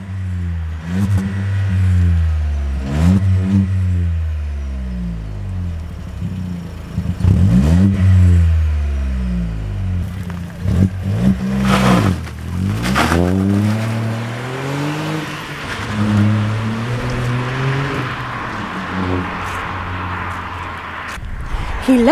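VW Up GTI with a freshly fitted Milltek Road+ exhaust revving repeatedly, the engine note rising and falling in strong swells close by, with brief speech between revs.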